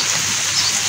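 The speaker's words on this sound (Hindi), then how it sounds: "गाइस बारिश बहुत ही तेज़ हो चुकी है अभी फिलहाल।" Heavy morning rain pours down in a brief, loud, dense wash of hiss, close by and alone.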